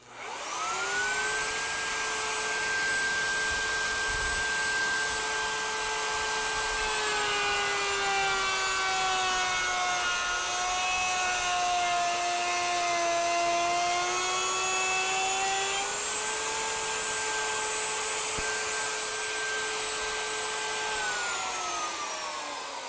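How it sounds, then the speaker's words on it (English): A plunge base router cuts a pass through wood along a straightedge guide, producing one continuous, loud, high-pitched motor whine with a slight dip in pitch as the bit bites, with no talking. "This is where a plunge base router comes in quick and handy."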